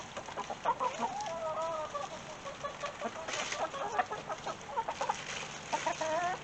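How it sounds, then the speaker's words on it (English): Several chickens cluck and chatter close by in a busy, overlapping stream, with a few louder squawks rising above the flock. "You are some silly chicken."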